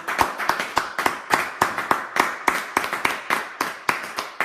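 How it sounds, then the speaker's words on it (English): An audience gives a round of applause during a church broadcast: steady, rhythmic claps at an even pace, fairly close and clear, with no voices over them. "let's give him a round of applause."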